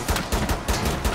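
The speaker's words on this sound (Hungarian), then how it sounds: "360 gépfegyverrel, és ne engedd el a lövést" Automatic gunfire from a machine gun in the video game Rainbow Six Siege, loud rapid bursts with a steady pulsing rhythm over about a second, heard alone without voices.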